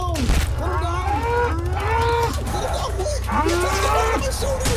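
A cow monster in a Roblox horror game lets out several long, wavering moos, loud and close, over a steady low droning hum.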